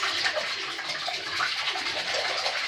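Eggs and milk whisked together by hand in a bowl for a crustless quiche, a continuous quick wet swishing and frothing with no talk.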